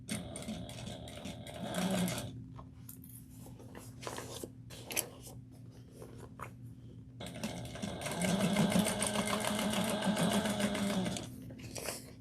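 A sewing machine stitches through the bulkiest part of a crossbody bag, about four layers with lining, in two runs of steady close whirring separated by a short pause with light handling noises.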